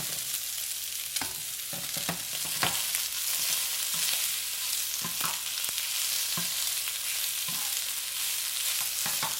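Chicken pieces and green beans stir-frying in a pan, a steady close sizzle with scattered scrapes and clacks of a utensil stirring, no talking.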